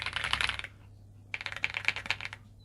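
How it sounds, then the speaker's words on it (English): Typing on an Aula F75 mechanical keyboard: two bursts of quick, close keystrokes separated by a short pause, crisp and fairly quiet with no talking. "the keyboard sounds very good"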